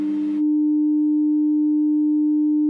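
A modular synthesizer holds a single steady, pure electronic tone, loud and unwavering for nearly three seconds after a short burst of noise at the start, with no voices.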